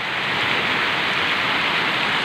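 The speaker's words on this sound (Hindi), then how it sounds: "तकरीबन आधे पौने घंटे से बारिश हो रही है" Steady rain falling during a rainy spell in Pakistan, a dense continuous hiss with no breaks, fairly close and even throughout, with no voices.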